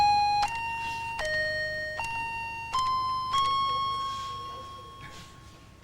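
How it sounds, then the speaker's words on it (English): A cute toy-like telephone rings with a sequence of clear electronic tones that step between pitches in a repeating melodic pattern, steady and fairly faint, with no talking over it. "isn't that a cute phone? It's ringing."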